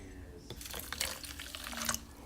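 Warm water runs from a faucet into a container prepared with Epsom salt, a steady soft rush of flowing water with a few brighter splashes, close and moderately quiet.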